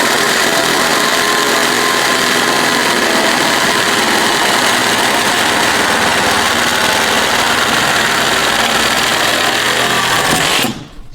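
A Makita reciprocating saw runs steadily at a constant high buzz, loud and close, for about ten seconds before cutting off abruptly at the end.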